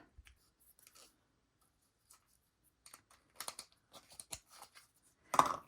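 Scissors snip through a polymer clay stretch bracelet cord, a few faint soft clicks building to one sharper, louder cut at the end, close and otherwise quiet.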